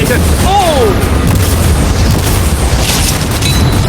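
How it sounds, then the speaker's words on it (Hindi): Cannons fire and smash through storage containers on a yacht, a dense, loud barrage of booms and crashing debris that runs without a break, with a brief whistling sweep near the start. "वो कैनन जैसे आर पार हो रहे हैं जैसे वो बटर हो।"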